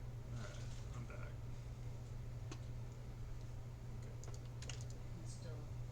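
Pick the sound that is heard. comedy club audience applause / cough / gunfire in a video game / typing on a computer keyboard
typing on a computer keyboard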